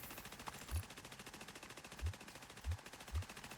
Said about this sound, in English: Perfectly normal day in DC. It's just gunfiring.